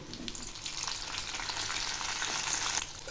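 Mixed vegetables for Bengali shukto, with raw green banana already fried, sizzle steadily in hot oil in a pan, a constant crackling hiss with faint stirring scrapes, close and with no voices.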